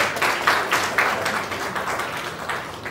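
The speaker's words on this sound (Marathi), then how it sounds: "जोरदार टाळ्या वाजवा" Audience applause at a Marathi film event, a steady wash of many hands clapping for a cast member, fairly loud and continuous with slight swells, no voices standing out.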